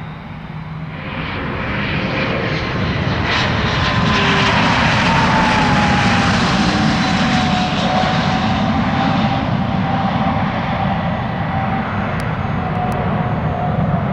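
A business jet at Scottsdale Airport roars steadily and loudly, a broad rumbling engine wash with a faint gliding whine that builds over the first seconds and then holds, with no talk over it.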